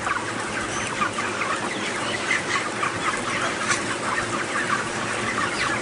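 A large flock of chickens raised in a poultry house fills the air with constant overlapping clucks and chatter, a dense steady din with no single bird standing out.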